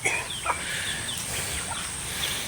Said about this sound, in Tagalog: may lumalapit din na manok